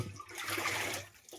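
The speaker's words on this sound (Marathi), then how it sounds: "पहिले पंपात पाणी टाकायचं आहे." Water poured into a five-litre sprayer pump tank, a short splashing gush of liquid heard close up, steady through most of the moment before tapering off.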